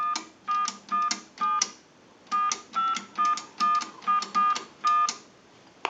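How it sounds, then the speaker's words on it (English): A quick series of payphone keypad tones, about a dozen short beeps in uneven groups, clear and close. "we'll call a time and temp number"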